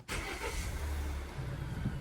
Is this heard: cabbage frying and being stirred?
no